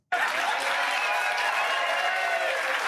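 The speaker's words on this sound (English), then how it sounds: "No love in those claps." Audience at a Jelly Roll show clapping half-heartedly, a sudden onset of steady, even applause that holds at a constant level throughout, with no cheering on top.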